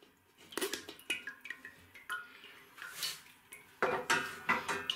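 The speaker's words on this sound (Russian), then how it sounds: "И сок там булькает в эту кастрюлю." Juice from pressed blackcurrant pulp drips and trickles into a metal pot, with faint irregular splashes and clinks of a strainer against the rim, quiet and close.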